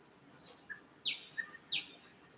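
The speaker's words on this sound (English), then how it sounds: "This is a bird CD I got playing" Recorded birdsong from a bird CD plays at a low level, giving a series of short, high chirps and tweets in a quick irregular pattern with no one talking.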